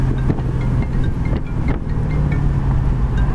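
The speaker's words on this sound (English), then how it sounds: "Applying the brake, no pull left or right, and the brakes stop great" A 1968 Chevy Camaro convertible brakes hard from high speed, with steady road and wind roar that stays loud and close throughout.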